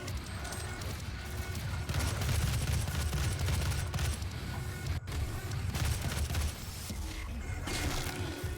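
Shots from Doom on the Sega 32X fire at a slow, measured pace over a dense, constant game soundtrack. The repeated blasts stay partly buried in the mix throughout.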